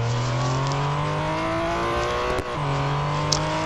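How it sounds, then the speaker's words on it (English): A race car engine holds a high, steady whine at full throttle in the Real Racing 3 mobile game, loud and constant with a brief dip near the end before the roar resumes. "Now, can I take this car flat out?"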